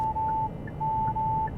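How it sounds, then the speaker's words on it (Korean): Hyundai Santa Fe Hybrid blind-spot warning chiming inside the cabin: steady electronic beeps in an on-off pattern, two long tones broken by a short gap, over low road and engine hum with no talk. "사각지대 경보 제대로 해주고 있고요."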